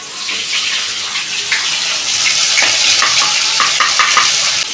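Chopped onion and ginger paste hit hot oil in a pan, giving a loud, close, continuous sizzle with bursts of crackling and spatula stirring; no speech.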